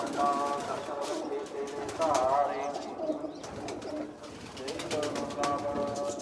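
A blue pigeon named Heera coos in soft, rolling bursts close by, repeating several times with short gaps while a person talks over and between the calls.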